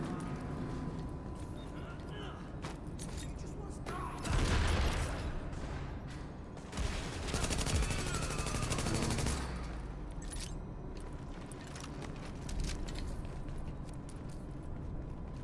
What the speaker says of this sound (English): Shooting gas pipes.